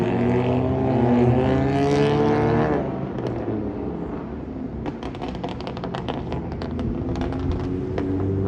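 Cars racing along a city street at night in Melbourne, Florida, a loud sustained engine roar that revs high then drops and settles into a steady rumble, heard from close by.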